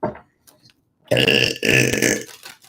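A long, loud burp from a psychic during a live reading, two sustained guttural bursts after brief faint sounds.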